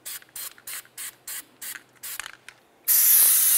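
Copper anti-seize sprayed onto a brake hub mating surface of a 1999-2003 Toyota Solara, seven short close hissing bursts in a quick rhythm, then one long continuous blast of spray at the end.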